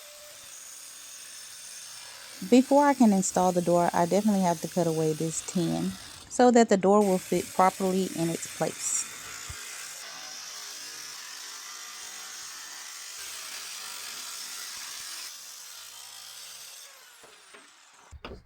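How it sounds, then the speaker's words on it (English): A power tool cuts away tin sheeting to make an opening for a door on a homemade bike camper. A steady, rough grinding noise runs for several seconds after a short stretch of someone talking. "Before I can install the door, I definitely have to cut away this tin."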